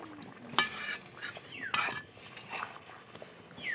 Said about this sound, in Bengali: দেখো ঝোলটা ফুটে গেছে। ঝোলটা যে ফুটে গেছে, এবার দেখো ভেজে রাখা মাছগুলো দিয়ে দেবো।